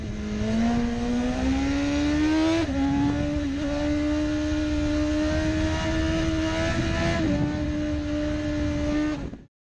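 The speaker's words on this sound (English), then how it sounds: "This BMW motorcycle features a 999cc engine producing up to 193 horsepower" A BMW 999cc superbike engine holds a loud, steady high-pitched whine throughout, with brief pitch shifts as it climbs through the revs, close and alone with no talk.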